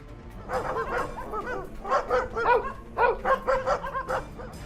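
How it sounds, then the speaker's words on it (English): Dogs in a backyard bark frantically at night, a rapid burst of repeated yips and bow-wows coming in clustered volleys, fairly close and loud, with no talk over them. "They go full-on freak-out mode, barking like there's no tomorrow."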